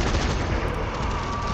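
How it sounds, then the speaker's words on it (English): Sustained machine gun fire in the zombie shooter game Zombie Army 4: Dead War, a dense, continuous burst of loud rapid shots filling the whole moment with no talking. "Oh no, there's someone with a machine gun"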